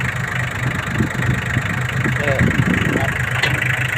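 A 1990s-era Japanese Iseki TL2300 four-wheel-drive tractor with power steering and a three-cylinder diesel engine runs at a steady idle, a continuous low mechanical rumble heard close up, with faint background sounds throughout.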